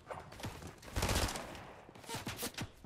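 Video game gunfire cracks out in a few bursts, loudest in a dense cluster near the middle, with scattered shots before and after at moderate distance.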